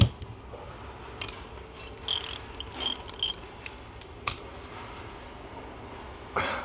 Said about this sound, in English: Now all you need is your spanner again. Tighten that up.